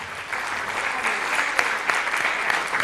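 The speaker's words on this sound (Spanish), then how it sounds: "un aplauso" Applause from an audience at a women architects' conference as an architect is invited onto the stage, a steady dense clapping that holds evenly for a few seconds at moderate loudness.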